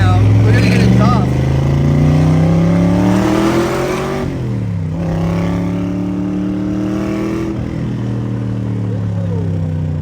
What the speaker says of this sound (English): We're going through an underpass right now. We're gonna get exhaust.